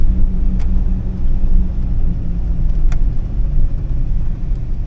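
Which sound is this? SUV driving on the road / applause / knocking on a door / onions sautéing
SUV driving on the road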